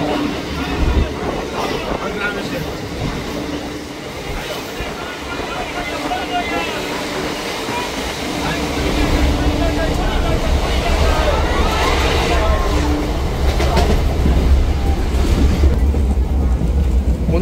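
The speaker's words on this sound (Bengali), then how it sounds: "বন্ধুরা, ট্রেন কিন্তু আমাদের ছেড়ে দিয়েছে লক্ষ্মীকান্তপুর" Local train pulling out of Lakshmikantapur station and rolling along the rails, a steady low rumble that grows louder and heavier midway, with voices murmuring faintly throughout.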